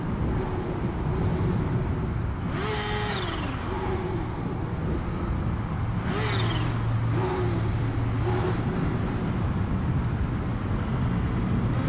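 A motorcycle engine revs on a highway, rising and falling in pitch about three times over a constant roar of wind and road noise. The engine sounds close and loud, and no one speaks.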